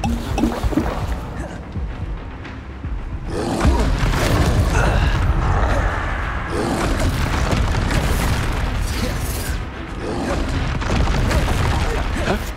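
Expulso explosion spell blasts in the Hogwarts Legacy video game on PS5, heavy booming bursts with rumbling aftermath amid combat noise and character voices.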